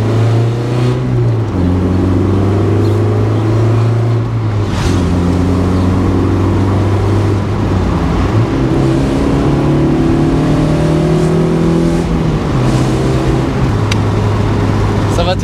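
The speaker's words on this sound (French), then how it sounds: "bruit du moteur change une fois passé les 4000 tours." A Mazda MX-5 NA roadster engine revs loudly and continuously, its sound changing past 4000 rpm, pitch climbing in steps as gears change, with voices underneath.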